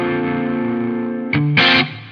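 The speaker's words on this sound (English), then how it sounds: "Then I can throw a chorus in there." Sustained electric guitar chord with a shimmering chorus effect, then two short bright strums near the end, no voices.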